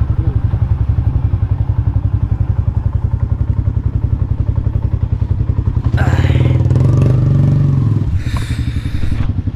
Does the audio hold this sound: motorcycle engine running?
yes